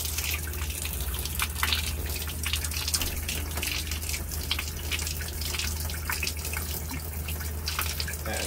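Water runs steadily from a camper's metal bathtub faucet during de-winterizing, a continuous hissing splash with a low hum beneath, fairly close and with no talking.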